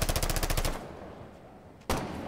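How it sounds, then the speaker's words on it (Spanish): Rapid burst of automatic gunfire in Rainbow Six Siege, loud and rhythmic, stopping abruptly before a single sharp shot rings out near the end. "¿Hay tiros?"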